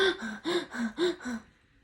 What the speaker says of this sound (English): He's gasping for air.